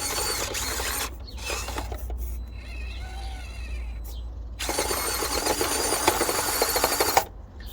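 Small FMS FCX24 K5 Blazer or Axial SCX24 Bronco RC crawler with its motor and gears whining as the wheels spin, loud mechanical buzzing in bursts with a quieter stretch in the middle, no talking.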